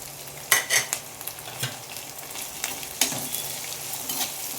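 Chopped onion and tomato sizzle in a hot pan for avalakki, with a steady frying hiss broken by sharp scraping stirs of a spoon against the pan.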